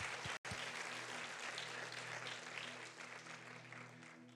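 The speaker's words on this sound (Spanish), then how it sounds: "Aplaude." A church congregation applauding during a sermon, dense sustained clapping from a large crowd that fills the whole clip, heard loud and continuous after a brief cut near the start, with a low steady hum beneath it.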